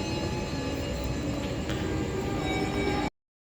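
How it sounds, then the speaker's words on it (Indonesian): Steady, loud ambience in the front lobby of Semarang Tawang railway station in Indonesia, with a continuous rumbling train-like wash and a brief sharp click partway through; no talking. "Kita udah ada di depan atau lobinya stasiun Semarang Tawang"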